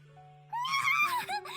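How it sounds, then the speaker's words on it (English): A high-pitched female character's scream from the visual novel A Sky Full of Stars, a brief wavering cry that bursts in after soft sustained background tones. "Takeichi can hear Korona screaming"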